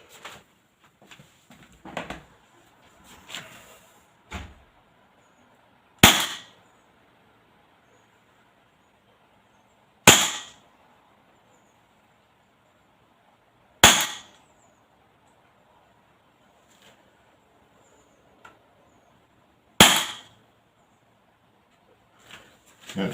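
Several sharp, loud cracks from an AAP01 BB airsoft pistol, fired singly at irregular gaps of a few seconds, with faint scattered clicks and handling noise between shots.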